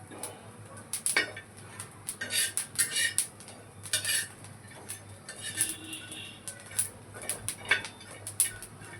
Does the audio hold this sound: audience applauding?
no